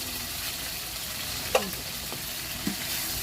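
Ground meat fries in a pan with a steady, close sizzle, broken by a couple of brief clinks or scrapes from stirring.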